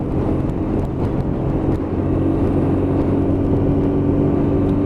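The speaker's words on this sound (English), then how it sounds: "Up into 6th gear and open it up on the hill climb." A Lexmoto LXS motorbike pulling hard in sixth gear up a hill, a steady loud engine drone with heavy wind rush, close and continuous, no voices.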